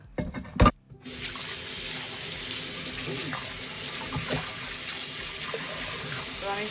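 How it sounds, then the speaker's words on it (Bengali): Hot water pouring from a kitchen tap onto a whole frozen rohu fish to thaw it, a steady rushing splash that continues evenly after a brief clatter at the start. "একটু গরম জল দিয়ে দিচ্ছি এটা তাড়াতাড়ি নরম হয়ে যাবে তার জন্য"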